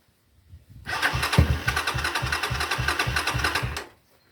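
An engine in an old shed-bought machine cranks and fires into a fast, steady, rattling idle for about three seconds, loud and close, then cuts off abruptly into silence.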